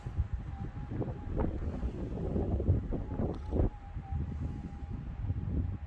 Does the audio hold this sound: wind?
yes